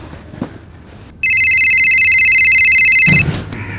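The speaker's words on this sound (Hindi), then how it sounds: "मेरा फोन बजा ना, मतलब मेरा वाला।" After a quiet moment, a phone ringtone starts with a bright, pulsing electronic trill that rings steadily for about two seconds, close and loud, then stops.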